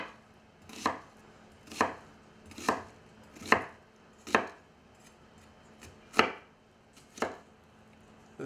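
An onion is chopped on a cutting board for soup, about nine crisp, evenly spaced knife strikes sounding close and clear with no talking.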